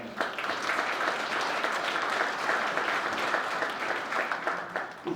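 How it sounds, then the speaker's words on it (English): Steady applause from a breakfast event audience in a hall, even clapping throughout at moderate level, slightly distant. "So a round of applause for them."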